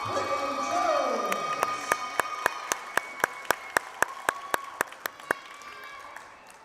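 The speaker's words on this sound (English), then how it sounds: "let's have one more round of applause for our 2022 Lady Builder senior, Brittany Jones." A crowd at a women's college basketball game applauds a senior player. A short wash of clapping gives way to sharp, evenly spaced claps in a steady beat, with a sustained musical tone underneath.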